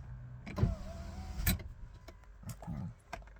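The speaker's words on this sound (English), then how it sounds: "Let me close these windows." Car power windows being closed, a faint motor whir with a few soft thumps and clicks as the glass moves and settles, heard alone in a quiet car.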